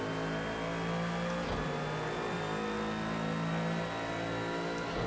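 Race car engine on throttle in Project CARS 2, a steady loud mid-pitched drone with the revs climbing gradually and a brief shift near the start, heard alone without talk.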